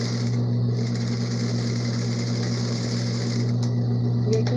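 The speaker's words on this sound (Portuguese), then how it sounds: "Você já passa uma costura" A sewing machine stitches a felt doll, running continuously with a steady mechanical whir and rapid needle clatter, close and even throughout.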